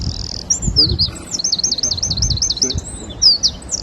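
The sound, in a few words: winter wren song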